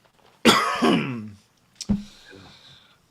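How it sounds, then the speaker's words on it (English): A person coughs harshly and raspily, then gives a second, shorter cough after a brief pause, close to the microphone. "There goes the cough."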